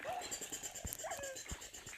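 Faint, high whimpering cries from a dog in the video game Minecraft come in short rising bursts, with soft thuds and a steady electronic tone behind.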